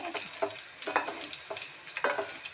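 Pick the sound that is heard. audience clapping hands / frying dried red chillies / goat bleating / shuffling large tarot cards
frying dried red chillies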